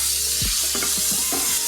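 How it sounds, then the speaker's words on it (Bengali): Chopped tomato sizzles and fries with onion and garlic in a pan for Gobi Manchurian, a steady hiss with a few stirring scrapes and clinks close by. "দিয়ে এটাকে আমি ভালো করে ভাজা করব"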